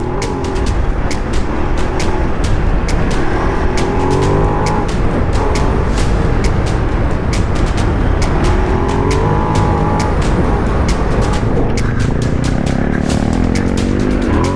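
Rally motorcycle at the Hellas Rally 2024, stage 6, its engine droning loud and close as the rider overtakes other bikes on a dusty route, with wind roar and sharp ticking impacts throughout.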